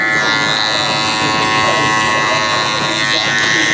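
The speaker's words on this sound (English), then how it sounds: "so it could be easier to use a clipper over comb" Close and loud, an electric hair clipper drones continuously as it is run over a comb during a child's haircut, with speech mixed in beneath the buzz.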